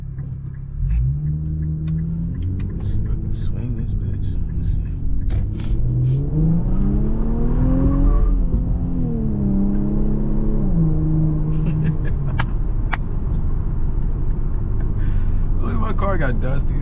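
An Infiniti Q50S revs and accelerates from inside the cabin, the turbocharged engine rising and falling in pitch through gear changes with a steady rumble, while occupants talk over it.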